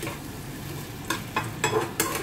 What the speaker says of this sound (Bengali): সুন্দর করে চিকেনের সঙ্গে মশলাটা মাখিয়ে দিচ্ছি।